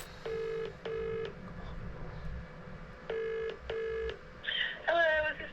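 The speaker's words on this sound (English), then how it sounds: "So I think it's time we try a phone call." Telephone keypad tones beep in two quick pairs, pause, and beep in two more pairs as a phone call is dialled, followed by a short burst of ringing tones, all close and clear.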